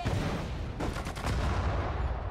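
Artillery and gunfire from the war video game Sudden Strike 4 crackle in a cluster of sharp bursts over a rumbling low background, fairly loud and dense, with no talking.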